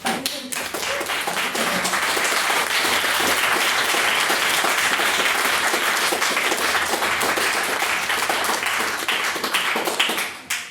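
Sustained applause from a debate audience after a maiden speech, loud and dense for about ten seconds before tapering off at the end.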